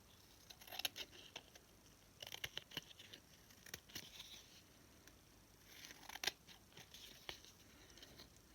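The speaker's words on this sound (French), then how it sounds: "Je vais couper tout ce qui dépasse." Scissors trim overhanging paper from a small artist trading card, a faint, close series of quick snips and crisp paper rustles in irregular bursts.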